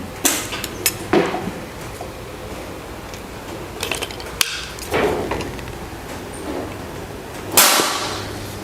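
Several sharp, snappy shots from an FX UX PCP air rifle firing pellets, spaced a few seconds apart, each a brief crack with quieter handling noise between them.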